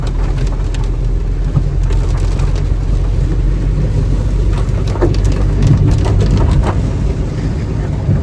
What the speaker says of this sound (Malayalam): ഒരു കുഞ്ഞ് ചാറ്റൽ മഴ മാത്രമേ ഉണ്ടായിരുന്നുള്ളൂ